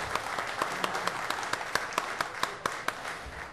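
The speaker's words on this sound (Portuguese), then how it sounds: "Uma salva de palmas para o vice-governador César" A modest group applauds the vice-governor at a public hearing on new rules for marine lands, individual claps sharp and distinct over a softer bed of clapping, thinning toward the end.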